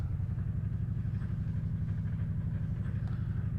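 In-car engine sound from a race car in the iRacing simulator, a loud, steady low-pitched drone with a fast rhythmic pulse that holds constant throughout, with no voices.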